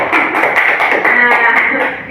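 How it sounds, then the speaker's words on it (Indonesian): A group in a school or teacher-training session claps hands. The applause is loud and dense and keeps going the whole time, with some voices mixed in. "Iya. Tepuk tangan."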